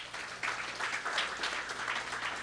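Audience applause during a night of Ganesh Utsav celebrations, a steady wash of clapping from a crowd at moderate distance, fairly even in level and continuing throughout without speech.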